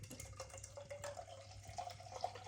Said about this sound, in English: That's pouring quite thin.